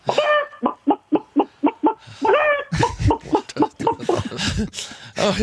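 A man imitates a hen, giving a run of short, rhythmic clucks that rise into a squawk, followed by laughter and chatter from others nearby.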